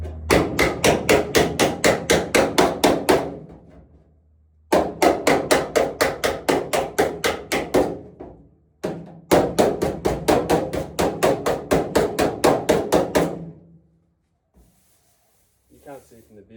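A car's metal quarter panel is worked with a hammer against a dolly: rapid, even bursts of sharp metallic blows in three long runs, loud and close, with brief pauses between runs.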